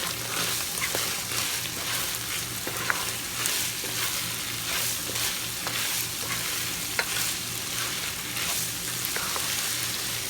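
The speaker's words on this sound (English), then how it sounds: "Saute this for a few minutes" Empanada filling seasoned with pepper, garlic powder and salt sautés in a pan, a steady close sizzle running throughout with repeated scrapes and taps of a utensil stirring it.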